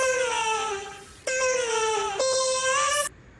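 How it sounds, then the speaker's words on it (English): A vocal chop pitched up seven semitones gives a squeaky chipmunk voice, heard as three sustained, wavering sung phrases with no other sound behind them. The middle phrase starts after a brief dip and the last cuts off abruptly. "If you were to hear this just fully pitched up by 7, it would sound like this"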